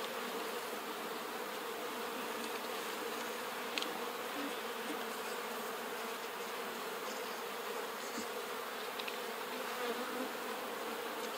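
Honeybees buzz steadily around plastic hive frames holding brood and honey, a dense continuous hum of many insects close by with a few faint clicks and knocks from the frames. No one speaks.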